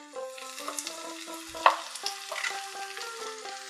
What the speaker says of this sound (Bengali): হালকা করে নাড়বো, নাহলে ফুলকপিগুলো সব ভেঙে যাবে,